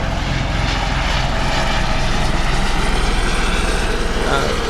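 A helicopter flies overhead near a Caribbean sailing race start, a loud, steady rotor and engine drone with rapid blade thumping that holds throughout, blending with voices in the background.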